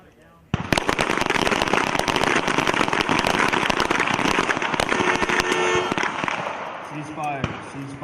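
Many pistols fire at once at an army team pistol match, a dense, loud, crackling burst of overlapping shots that lasts several seconds and then thins out. Voices are heard near the end.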